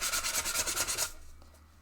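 Sandpaper rubs a hammered Japanese foil ball in brisk back-and-forth strokes, a rhythmic close-up rasp of about nine passes that stops abruptly into near silence.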